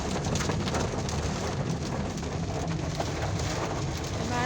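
Rain pours steadily, a broad dense wash of drops on surfaces with a low rumble underneath, continuous and fairly loud.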